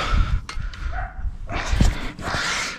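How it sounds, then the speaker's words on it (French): A small dog barks and yips several times up close, loud and irregular, with whimpering noises between the barks. "Un petit chien qui t'aboie dans la gueule là"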